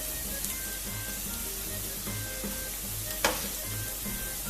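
Onion and garlic sizzle steadily in a hot pan while cooking meatless borscht with beans, a close, continuous frying hiss with light stirring scrapes and one brief louder clatter.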